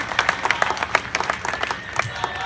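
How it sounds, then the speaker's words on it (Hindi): Scattered hand clapping from a crowd at a political rally in support of a candidate, moderately loud and uneven, with background voices mixed in. "जोरदार तालियां, समर्थन"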